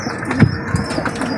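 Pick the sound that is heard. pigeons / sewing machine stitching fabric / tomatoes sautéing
pigeons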